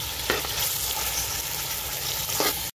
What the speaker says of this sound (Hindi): साथ में अदरक की पेस्ट डाल दीजिए और इन दोनों के साथ अच्छी तरह इसको फ्राई कर लीजिए।